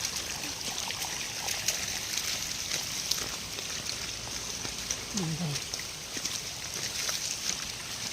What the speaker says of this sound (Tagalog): Ang hina ng ulan pero ang lakas ng tubig. Baha ito sa ilog, no?